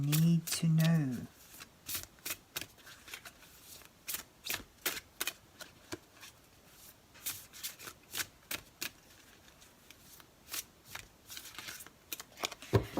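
Tarot cards being shuffled by hand, a rapid series of crisp flicks and riffles after a brief voice at the start, close and fairly quiet.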